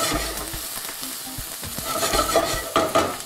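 Minced onion sweating in a hot pan for tortilla soup, with a soft steady sizzle and repeated scraping stirs of a utensil against the pan, close and moderately loud, with no talk.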